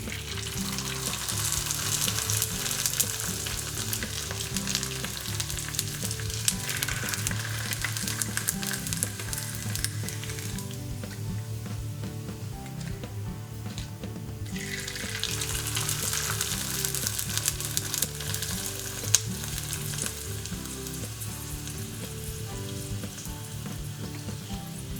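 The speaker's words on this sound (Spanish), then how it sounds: "Aceite caliente y freímos." Rice snacks frying in hot oil give a dense, continuous sizzle and crackle that swells loudly, dips briefly midway, then surges again, heard close up with no talking.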